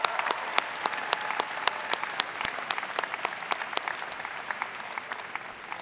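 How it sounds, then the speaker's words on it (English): Audience applause at a college undergraduate graduation ceremony, many hands clapping in a dense, steady stream with crisp individual claps standing out, fading slightly toward the end. "I think that deserves another round of applause."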